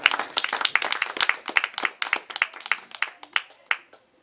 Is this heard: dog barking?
no